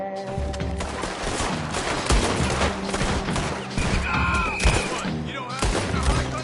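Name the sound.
gunfire in a PS4 video game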